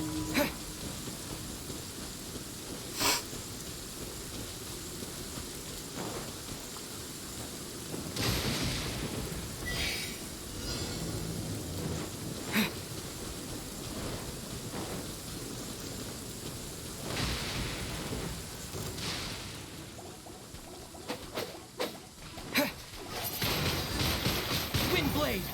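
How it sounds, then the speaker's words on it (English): A video game thunderstorm plays as a steady, loud rain hiss broken by several sharp thunder cracks and rumbling swells across the stretch. "It's a hell of a storm right here."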